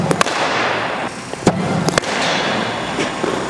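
A cricket bat cracks against a ball during an outdoor batting session facing a professional bowler: a few sharp, hard hits spaced over a few seconds over steady, windy outdoor noise.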